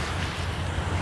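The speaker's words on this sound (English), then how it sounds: "quite comforting, the noise of the waves, if you hear that." Ocean waves at the beach near a tidal pond at high tide, a steady low rumbling wash with wind noise buffeting the microphone, continuous and fairly loud.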